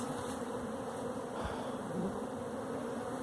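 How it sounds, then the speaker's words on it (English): A swarm of honeybees drones in a thick, constant hum, a brief brush of a louder bee passing close midway. "like a big old swirl of bees."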